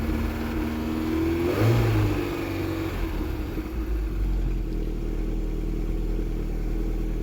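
Ford 2.0 SOHC Pinto engine on a Weber 30/34 carburettor, running rough with a brief rev rise and fall early on before settling into a steady idle rumble, close and continuous with no talk.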